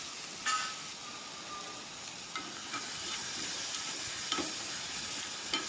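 Ingredients for a banana and dry fish gravy being sautéed in a pan make a constant soft, hissing sizzle nearby, broken by a few light clicks and scrapes from stirring, with no talking.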